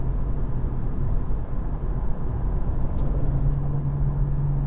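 A BMW M135i runs flat out on the Autobahn, giving a loud, steady roar of engine, tyre and wind noise that carries on without a break and without any voices.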